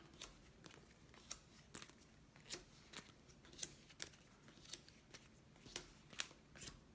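Advisor cards from the board game La couronne d'Emara being shuffled by hand, a quiet, close series of crisp riffling bursts repeating about every half second with no talking.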